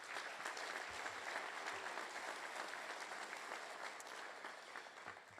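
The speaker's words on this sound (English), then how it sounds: "Round of applause for all of them, please." A hall of fame induction audience claps together in a large room, a steady, fairly distant round of applause that tapers slightly toward the end.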